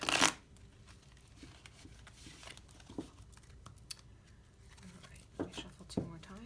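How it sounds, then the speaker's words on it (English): A deck of cards is shuffled with crisp riffling bursts, strongest at the start and again near the end, amid faint room rustle and quiet talk. "let me shuffle 2 more times"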